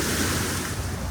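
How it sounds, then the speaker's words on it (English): Waves of the Tagus river wash up on a small river beach, a close, loud, continuous rush of water mixed with wind buffeting, no talk. "The waves of the Tagus lapping up on it,"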